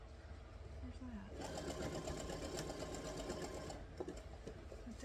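A sewing machine stitches a wave quilting pattern across a CRK print quilt, its motor whirring loud and steady in a rapid rhythm that rises partway through, while a person talks quietly over it.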